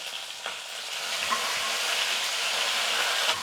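Chopped ginger, green chilies and curry leaves frying in hot oil, a dense loud sizzle that swells and holds steady for a few seconds, with a couple of light stirring scrapes near the start.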